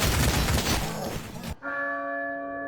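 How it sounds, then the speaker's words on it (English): A church bell rings out once in the video game Cultic right after a loud, noisy burst of in-game action, leaving a clear sustained tone that lingers and slowly decays. "Oh, la campana."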